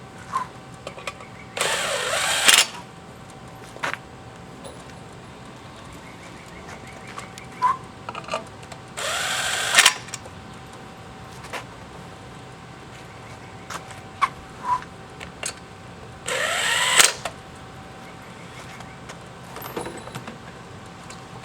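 A power drill removes bolts and screws during a Wildcat clutch installation, three short whirring bursts spaced apart amid quiet clinks and shop handling sounds.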